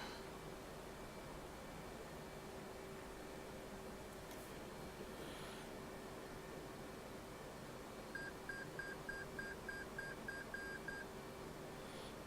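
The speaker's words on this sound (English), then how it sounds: "Yeah, something's beeping." F/A-18 cockpit warning in the flight simulator DCS World: a rapid run of about ten short, evenly spaced electronic beeps near the end. The beeps are faint and sit over a quiet, steady cockpit hum.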